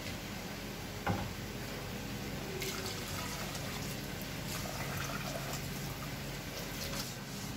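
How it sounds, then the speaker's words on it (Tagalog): Water pouring into a cooking pot of rice before it is covered, a steady, soft broadband wash of liquid running for several seconds with a faint knock near the start, fairly quiet and with no talking. "Lagyan na po natin yung uli ng tubig para masain po."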